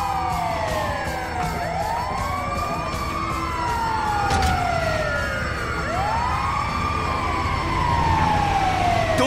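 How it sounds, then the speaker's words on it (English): Ambulance siren in the Grand Theft Auto V video game, a loud wailing tone sweeping repeatedly up and down, close and continuous over steady engine and traffic rumble. "It's the ambulance!"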